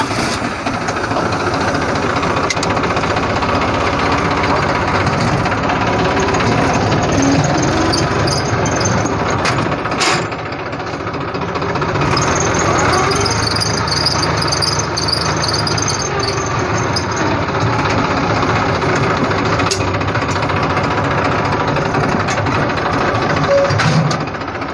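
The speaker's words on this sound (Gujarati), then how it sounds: "ખાલી આ ટ્રેક્ટર પાસે મારવાનું છે આ જગ્યાએ." A tractor engine runs continuously on a farm, giving a loud, steady, rough rumbling drone with clattering, a brief dip partway through and occasional sharp knocks.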